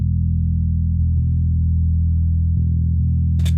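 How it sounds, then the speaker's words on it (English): Highly compressed, filtered clean DI bass guitar track: a deep, smooth low-end tone held steady and loud throughout, with a few soft note changes and a brief brighter click at the very end. "And we got the bass deep track,"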